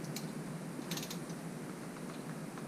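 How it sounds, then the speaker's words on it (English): Torque wrench turning a 6mm hex bolt to 20 Nm during motorcycle fork reassembly on an F850GS, heard as a few close ratcheting clicks over a steady hiss. "6mm hex, and this is on a torque wrench. Torque wrench set to 20 Newton meters."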